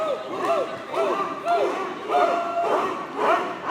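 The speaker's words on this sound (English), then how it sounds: "This crowd barking along with Davis now." At an indoor wrestling event, a crowd barks along with wrestler Jay Davis in loud rhythmic chanted bursts about twice per second, repeated several times.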